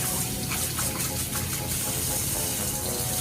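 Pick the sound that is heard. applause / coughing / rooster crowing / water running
water running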